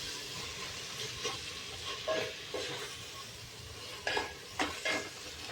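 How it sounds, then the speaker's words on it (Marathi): Corn rice pulao mixture being sautéed in a pan, with a steady background sizzle and several spoon scrapes and stirs against the pan, the louder strokes landing near the end. "आता छान असं ह्याला 1 अर्धा मिनिटभर परतून घ्यायचं आहे."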